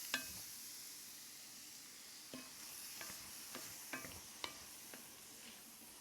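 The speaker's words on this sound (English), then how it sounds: "Stir the ginger in." Ginger stirred into an apple mixture in a pan on very low heat: soft scraping strokes with a few sharp clicks of the utensil against the pan over a faint steady sizzle.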